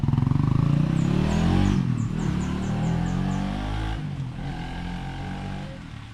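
A motorcycle on a test ride runs loud and close, its engine throbbing and revving before the sound eases slightly as it pulls away.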